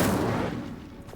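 An Incendio fire spell erupts in the Hogwarts Legacy video game, a single sharp, loud blast with a booming attack that decays quickly into a fading rumble.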